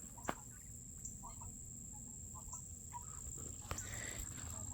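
Chickens let out of a coop give soft, scattered clucks at a moderate distance, with a faint steady insect whine behind them and a couple of sharp clicks.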